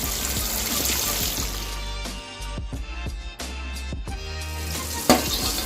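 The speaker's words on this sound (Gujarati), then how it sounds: "તો આવી રીતે આપણે બધી વેફરને ફ્રાય કરી લઈશું." Steady deep-fat frying sizzle of banana wafers with bubbling oil, broken by sharp clinks and scrapes of a utensil against the pan, ending in one louder clatter.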